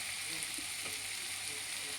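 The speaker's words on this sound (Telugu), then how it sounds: "కొద్దిగా వేగాలి, మూత పెట్టేస్తే వేగిపోతుంది. ఇవన్నీ వేగుతుంది." Sliced beetroot fries in a pan with salt, a steady soft hiss of sizzling oil throughout and faint stirring touches, quiet and close with no one talking.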